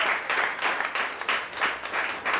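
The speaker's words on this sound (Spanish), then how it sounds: "quien pido un aplauso donde quiera" Applause from a concert audience at a quintet performance comes in steady, rhythmic waves of clapping, loud and close throughout.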